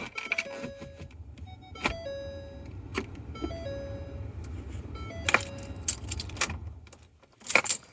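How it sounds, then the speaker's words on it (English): Keys jangle and clink as a key is turned in the ignition of a 2015 Ford Expedition with a key stuck in the ignition, giving several sharp metallic rattles, close and fairly loud, over a low steady hum and faint chimes. "So turn this key on."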